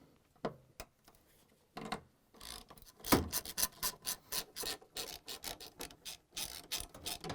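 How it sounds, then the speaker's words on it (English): Ratcheting socket wrench fitted with a 10 mm socket loosens the stator bolts on an LG/Kenmore washer motor, giving quick repeated clicking strokes close by, starting sparse and then settling into a steady back-and-forth rhythm. "So we switched the head on our socket wrench to 10 millimeters"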